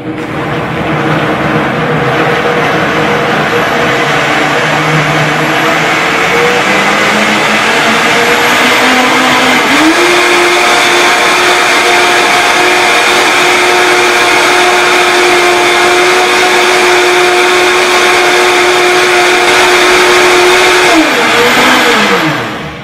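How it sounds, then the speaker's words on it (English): A Vitamix blender whirs through cashews and water for cashew milk, its steady motor pitch climbing as the blades spin up and then holding a loud, constant drone before winding down at the end. "It takes a couple minutes of blending to get everything completely blended up."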